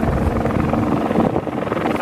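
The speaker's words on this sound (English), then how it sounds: "our turn came to get on the helicopters early in the morning." A helicopter flying at high altitude after an earthquake gives a loud, steady rotor and engine roar that fills the whole stretch with dense, rumbling noise.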